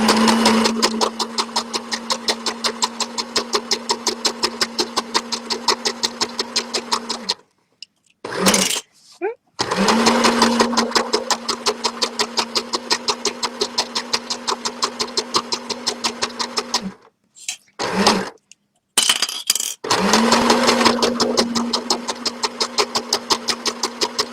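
A sewing machine stitches a striped tie-dye bag in long rapid runs of even mechanical clatter with a steady motor hum, stopping twice briefly between runs.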